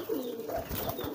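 A pigeon coos close by, a few low throaty rolling calls in quick succession.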